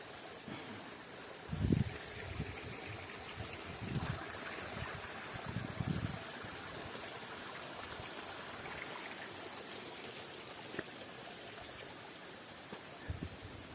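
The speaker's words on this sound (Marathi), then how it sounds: "या पांदीला पाणी वाहत आहे" Water flows in a small stream along a village field lane, a soft steady trickle heard faintly outdoors with a few louder rustling bumps near the start.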